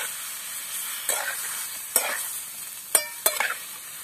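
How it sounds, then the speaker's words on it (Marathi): Fish stirred into frying masala, with a soft steady sizzle broken by several sharp scraping clacks of the spoon against the pan, close and clear. "आता आधी आपण मासे टाकू। आणि आता हे चांगले हलवून घेऊ थोडा वेळ।"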